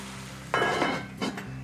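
A metal lid set onto a cooking pot of mussels, sausage and potatoes in white wine, giving a couple of brief clanks and scrapes close by, with no talk.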